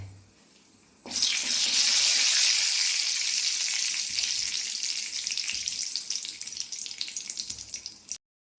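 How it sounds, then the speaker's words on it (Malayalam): Mustard seeds dropped into hot coconut oil burst into a sudden loud hiss after a quiet second, then a sustained bright sizzle with rapid crackling pops that slowly thins before cutting off. "കടുകൊന്ന് പൊട്ടട്ടെ"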